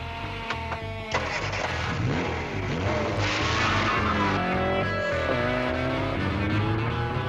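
A race-tuned Mini Cooper S with a 1275 engine revs hard, its loud engine note climbing and dropping through repeated gear changes, with some tyre noise underneath.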